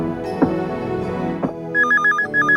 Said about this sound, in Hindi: Sir telephone sir.